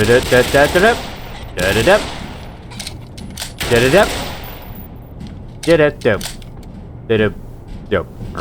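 MP5 submachine gun fire in the first-person shooter Black Mesa, heard as several short, sharp bursts scattered between stretches of someone talking over the game.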